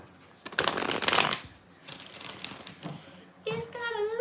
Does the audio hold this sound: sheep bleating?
no